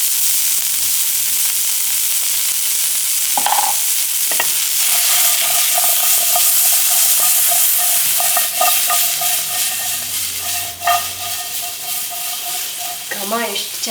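A teaspoon of white sesame seeds roasts in a hot pan with a steady loud sizzle and hiss, stirred with scraping and clinks toward the end.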